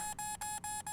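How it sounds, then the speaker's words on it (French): An alarm sounds on a computer as a loud, continuous electronic tone broken into rapid, evenly spaced pulses, about four beeps in a second, with no talking. "c'est quoi cette horreur? C'est une alarme."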